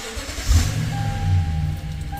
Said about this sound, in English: Key back in the ignition and starts immediately